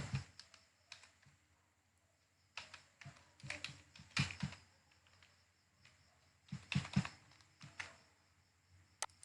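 Keys tapped on a computer keyboard while entering a password into an online form, quiet close clicks in short irregular bursts separated by pauses.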